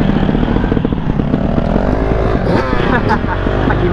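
A motorcycle climbs slowly on a steep trail near a steel pylon at Toba, its engine holding a steady, close drone that rises in pitch as it shifts up a gear, with voices at times.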